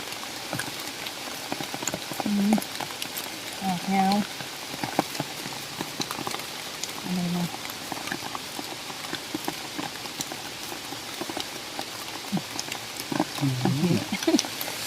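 Heavy rain falling steadily outdoors during mushroom foraging, a constant hiss of drops on surfaces with brief faint thumps and scattered sounds over it.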